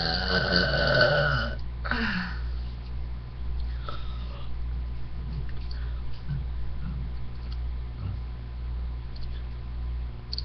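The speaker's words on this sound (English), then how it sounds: "I had a lot more burps in me than I thought." One long, loud, close burp opens the clip. Quieter stretches follow with faint sniffs and mouth noises over a low background hum.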